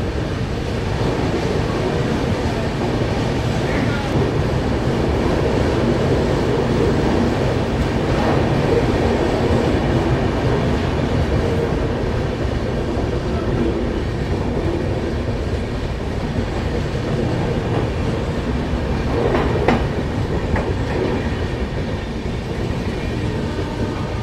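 An AC Duronto Express passenger train rolls steadily through Rourkela station, a continuous loud rumble with rattling carriage noise and faint rhythmic wheel clatter, no voices.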